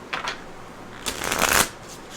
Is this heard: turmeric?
no